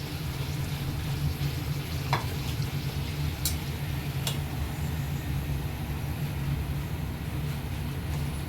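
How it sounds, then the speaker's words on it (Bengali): Fish kochuri frying in hot oil, a steady close sizzle with a low bubbling rumble beneath and a few sharp clicks of a utensil against the pan. "এবার এটা ভেজে নেব।"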